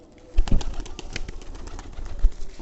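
Pigeons of the Sirazi and Giribaz breeds at a pigeon farm, with a couple of bursts of wing flapping and rustling movement close by, alone without talk.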